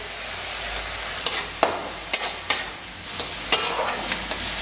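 Ginger garlic paste sizzles in a pan for a lobster curry with coconut milk, with a soft continuous fry and several sharp scraping stirs of a spoon at irregular intervals, no talking.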